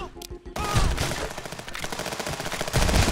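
Rapid gunfire in the video game Contraband Police during a one-against-thirty border shootout with bandits: dense, loud bursts of automatic shots crackling continuously after a brief quieter opening.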